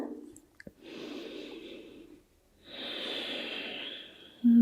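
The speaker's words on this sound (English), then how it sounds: "Take a deep breath." A slow, deep yoga breath taken while resting in child's pose: a long audible inhale, a pause, then a longer, fuller exhale, close and soft, with no talking over it.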